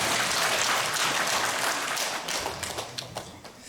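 Steady applause from a church congregation clapping together after worship singing, loud and continuous before gradually thinning out toward the end.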